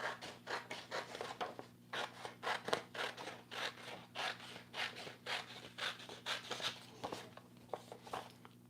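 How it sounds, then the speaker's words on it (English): Small scissors snip through paper in a quick, steady series of crisp cuts, close up and fairly quiet, with no talking. "You just cut along the lines."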